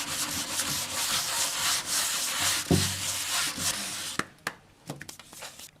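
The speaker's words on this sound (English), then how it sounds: "Okay, so I think we're done sanding." Steady, rough sandpaper scrubbing across a wooden cabinet, close and continuous, then stopping with a few light knocks and taps.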